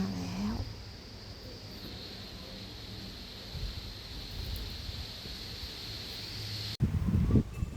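Wind blows steadily outdoors at a hillside temple and cave meditation site in Lopburi, Thailand. It makes a continuous low rumble and buffeting with a steady high whine above it, and ends in a brief louder gust.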